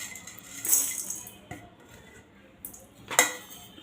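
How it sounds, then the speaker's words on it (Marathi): Whole spices being dry-roasted in a pan for mutton curry: sparse metallic clinks and rattles of a utensil against the pan, two sharper scrapes standing out over a quiet background, no speech. "आता काही खडे मसाले भाजून घेऊ"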